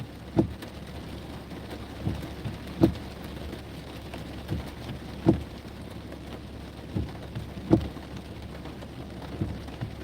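Steady rain drums outside a car on a night drive through a thunderstorm, with low rumbling thunder and periodic thuds rising above the constant hiss every couple of seconds.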